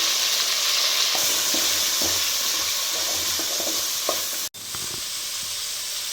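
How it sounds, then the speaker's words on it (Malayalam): Chopped onions frying with crushed beef, garlic and ginger for a roasted-coconut beef curry: a loud, steady hissing sizzle close by, with scattered stirring taps and a brief dropout near the end. "ഇതിലേക്ക് ഞാൻ 2 സവാള ചോപ്പ് ചെയ്തോടെ ചേർത്ത് കൊടുക്കുകയാണ്."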